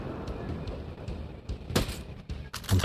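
Gunfire in the tactical shooter Ghost Recon Breakpoint, a couple of sharp shots cutting through steady background game ambience and low rumble.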